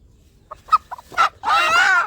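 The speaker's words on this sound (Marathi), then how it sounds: "एकदम प्युअर गावठी कोंबडे आहेत, बघू शकता." Pure country (gavran) chickens clucking nearby in a few short separate calls, then a louder, longer burst of rapid clucking and squawking near the end.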